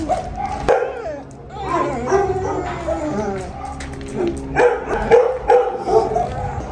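Dogs bark and whine in a busy animal shelter, the yelps and whimpers rising and falling steadily while people talk close by.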